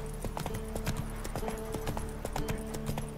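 A horse trots in The Witcher 3, hooves landing in an even, moderate clip-clop rhythm against a low ambient game background, steady and close throughout with no talking.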